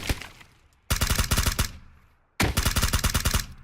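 Two rapid bursts of automatic gunfire in PUBG, each a loud, close string of about six or seven evenly spaced shots followed by a fading echo tail, with a softer distant burst at the start.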